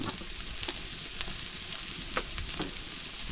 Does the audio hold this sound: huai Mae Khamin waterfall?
no